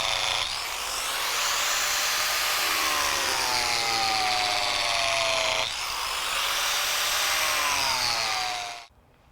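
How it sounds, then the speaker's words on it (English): A 4-inch grinder with a crack chaser blade cutting concrete, a loud high whining grind that sweeps slowly in pitch, briefly breaks near the middle, then stops abruptly at the end. "Four-inch grinder again with a crack chaser blade."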